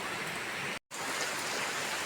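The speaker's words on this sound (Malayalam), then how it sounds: "പുറത്ത് നല്ല മഴയാണ് കേട്ടോ" Steady, dense hiss of heavy rainfall, broken by a brief silent gap before resuming just as strongly.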